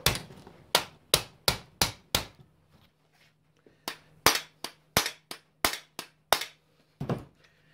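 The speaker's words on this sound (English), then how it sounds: "I'm going to put the nut on the end so it's flush. Maybe a little bit recessed in, and just use a soft hammer." Sharp soft-hammer taps on a nut on a Mitsubishi Sigma steering column, two bursts of about six and eight blows with a short pause between, close and fairly loud.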